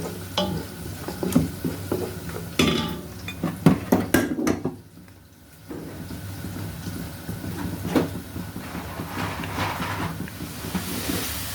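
Agar-agar mixture for tender coconut pudding stirred in a pot, repeated clinking of a spoon against metal and scraping over a soft bubbling sizzle, with a brief quiet gap midway.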